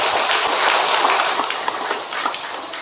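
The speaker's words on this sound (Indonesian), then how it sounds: "Tepuk tangan untuk Pak Ketua kita." An indoor gathering gives its chairman a round of applause: dense, steady clapping from many hands, fairly loud and continuous, tapering slightly toward the end.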